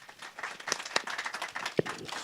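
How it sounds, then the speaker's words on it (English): Audience at a World Press Freedom Day commemoration claps for a speaker, scattered and uneven claps from a small group, some sharp single hits standing out, fairly close and moderately loud. "Let's clap hands for him."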